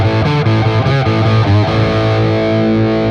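Distorted electric guitar playing a riff, with a small quarter-step bend on a note, then a sustained ringing chord; loud and close, no talking.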